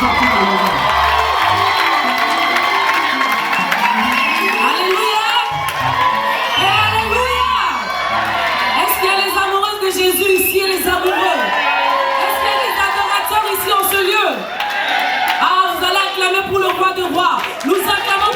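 A church congregation cheers, whoops and shouts together at length, including children's cries, forming a loud, dense wall of crowd noise that continues throughout.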